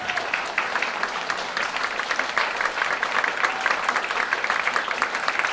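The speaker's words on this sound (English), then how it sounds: "we'd like to give you a round of applause" A seated audience applauds a volunteer graphic designer at a community event, steady dense clapping sustained throughout without pause.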